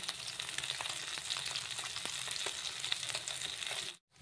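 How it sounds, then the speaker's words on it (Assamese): Rohu fish pieces fry in a pan with a steady, dense sizzle and scattered crackles throughout, then the sound cuts out abruptly near the end. "এয়া মই মাছখিনি ভাজি ল'লোঁ দেই"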